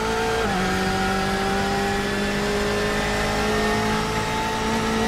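An LMP1 prototype race car in a Le Mans 24-hour racing video game, its engine note holding a steady high tone through a clear gear shift early on, running loud and continuous with no talk over it.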